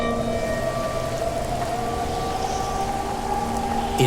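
Heavy rain falls as a dense, continuous hiss that stays loud and even throughout, layered over a low, steady droning tone.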